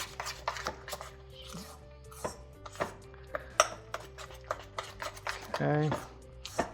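Cornbread muffin batter being mixed by hand in a bowl, with repeated soft taps and scrapes at an irregular rhythm close by. A person speaks briefly over the stirring.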